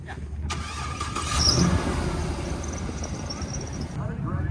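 A car out on a short test drive after a brake line repair, a steady low engine rumble and road noise close by, with a brief rise in revs early on and voices talking over it.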